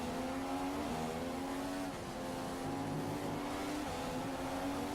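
F1 car engine screaming at high speed in seventh gear with DRS open at the Australian Grand Prix, a loud steady high-pitched whine that dips briefly in pitch then climbs again, with no talking.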